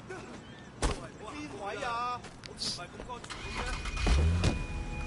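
In the Sleeping Dogs video game, a car engine starts with a rising whir and settles into a low rumble, heard under speech and game sound effects.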